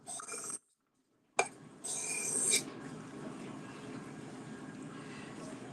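A knife is drawn across a sharpener in close, gritty rasping strokes. A short silent gap falls between strokes, and a voice is faintly present.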